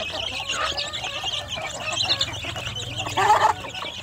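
Young village chicken chicks cheep in thin, high peeps inside a brooding box while a hen clucks lower down, with a brief louder burst of cheeping near the end.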